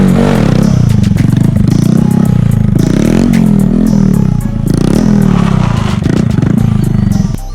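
A big motorcycle engine warming up, idling loud and close with a steady throbbing rumble, light mechanical clatter and small fluctuations in revs, with no talking.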